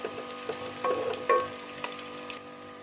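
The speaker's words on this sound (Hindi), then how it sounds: "यहाँ देखिए प्याज हल्का हमारा ब्राउन हो गया है।" Onions cooking to light brown in a pan, a steady close sizzle broken by a few brief stirring scrapes and spoon knocks, with no one talking.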